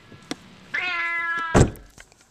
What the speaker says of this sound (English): Here's the kitty.